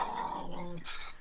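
Several tiny dogs growl, whimper and yip together in the background, fairly faint and continuous, mixed with a little chatter.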